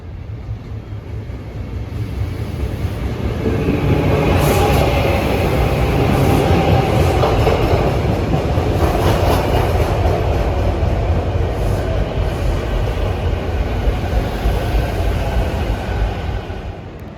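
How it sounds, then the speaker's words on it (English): A SEPTA Silverliner 5 commuter train from Philadelphia rolls into a Wilmington, Delaware station, its rumble and wheel noise, with flat wheels, swelling from quiet to a loud, sustained roar, then easing slightly toward the end. "we have a Septa train arriving from Philadelphia"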